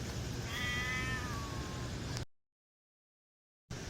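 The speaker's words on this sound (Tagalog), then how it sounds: "Dito naghihintay yung itim na pusa, oh. Gutom na sa." A hungry black cat gives one drawn-out, wavering meow close by against steady background noise, then the sound cuts off into silence.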